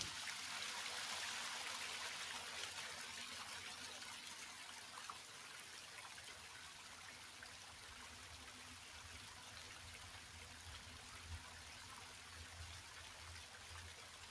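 Soft, steady trickle of flowing water in the video game The Longing, a faint, continuous stream with gentle dripping and a low hum beneath, with no voices over it.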